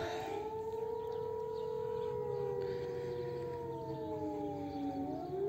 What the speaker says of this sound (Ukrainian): Знову сирени.